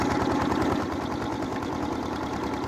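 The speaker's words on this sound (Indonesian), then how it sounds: "Dengan diaduk menggunakan traktor, batuan keras akan mengecil, namun tidak hancur sepenuhnya." A tractor engine churns clay for roof tiles and bricks, a steady low, throbbing idle with a faint rhythmic knock running unbroken throughout.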